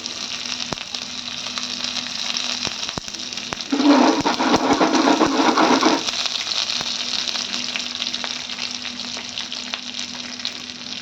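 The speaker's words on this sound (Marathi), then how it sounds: "आता यावर आपल्याला बारीक कट केलेली मिरची घालून घ्यायची आहे बारीक कट केलेला कढीपत्ता" Chopped green chillies and curry leaves drop into hot oil in a pan, causing a loud burst of crackling sizzle for about two seconds before it settles back to a soft, steady frying hiss.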